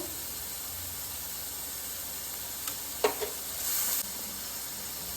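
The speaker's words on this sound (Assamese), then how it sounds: "এতিয়া এইখিনি ফ্ৰাই কৰি আছোঁ" A paste of ginger, garlic and cumin frying in a pan gives a constant soft sizzle and hiss, broken near the middle by a few quick clinks and a short louder spurt of spitting.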